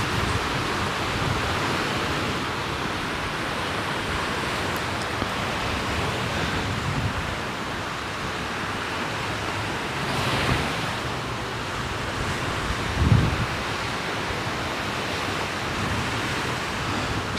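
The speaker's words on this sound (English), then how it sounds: "Very windy today." Strong wind buffets an outdoor microphone at a bar in Pattaya, producing a continuous roaring rumble with gusts that swell and fade over the whole stretch, plus one sharper thump near the end.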